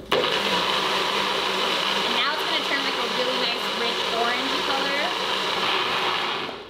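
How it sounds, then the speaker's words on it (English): An electric blender whirs steadily, loud and close, as it purées tandoori chicken wing marinade, holding a dense, even roar from start to finish with faint voices under it. "And then you're gonna blend this again before we add the final step"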